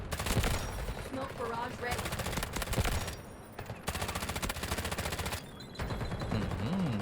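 K416 rifle fire in the Delta Force video game: loud, close bursts of automatic shots separated by short pauses, with a voice partly audible underneath.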